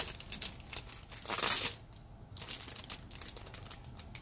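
Crinkly matte plastic bags from an Optimus Prime toy kit rustle and crumple as they are handled, with a louder burst of crinkling in the middle and softer rustling throughout, with no voices.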